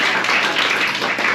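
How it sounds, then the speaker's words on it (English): An audience at a poetry reading event claps in a dense, steady burst of applause that stays even and fairly loud for the short stretch. "Give a round of applause to my assistant,"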